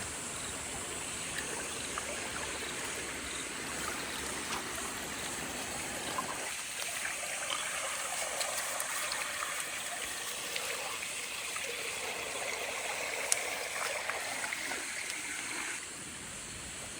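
Water rushing along the back of a farm dam wall after heavy rain, a steady broad wash of flow with a brighter, fuller rush joining in midway, close and continuous with no talking.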